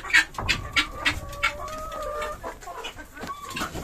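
A guinea fowl hen, broody and wanting to sit on eggs, clucks repeatedly in short close rhythmic calls, with a thin sustained tone running through part of the sequence.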